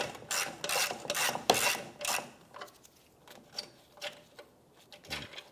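Ratchet loosening an 8mm bolt on the lower fog light mount of a 2005-2007 Ford Five Hundred front bumper, a run of close, bright clicking bursts that thin into scattered lighter clicks.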